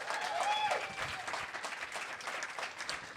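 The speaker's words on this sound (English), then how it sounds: "Clap it up for Dagan, everybody" An audience claps together in a soft, continuous patter of applause, heard from a distance, with a brief whistle near the start.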